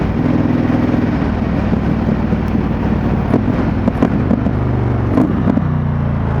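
An Indian FTR1200 motorcycle engine rumbles steadily at a low, throbbing pitch around 2,500 rpm at 50 km/h, close and loud, with wind buffeting and a few sharp ticks.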